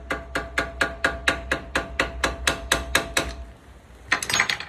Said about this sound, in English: Just keep hammering it.